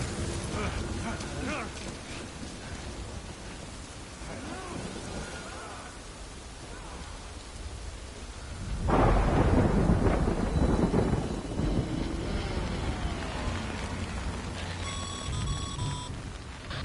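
Rain and thunder in the video game Death Stranding: a steady wash of rain, then a loud rolling thunder burst midway that rumbles on under the downpour, with faint electronic game tones near the end.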